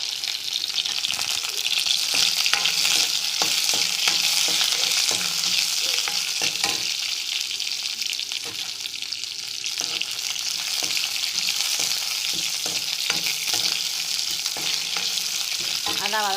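One tomato sautéing in a pan for coriander-mint chutney gives a steady, loud sizzle throughout, with scraping stir strokes repeating close by and no voices.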